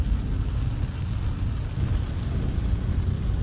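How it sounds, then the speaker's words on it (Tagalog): Heavy rain drums steadily on a vehicle driving from an open canal toward Tierra Vista, Cavite: a dense, continuous low roar with no pauses and no voices. "Maulan ngayon."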